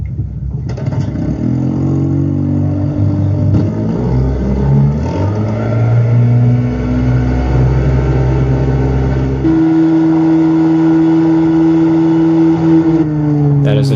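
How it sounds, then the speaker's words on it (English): A 1955 Johnson outboard motor played back through a small cheap speaker in a model boat, a loud continuous droning buzz with steady harmonic hum that shifts pitch as it revs and settles. "I was able to record an outboard motor."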